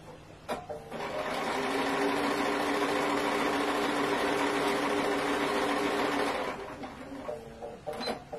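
A sewing machine stitches fabric with a flat presser foot in place of the quarter-inch guide foot, running in one steady fast burst of about five and a half seconds, with quiet handling noises before and after.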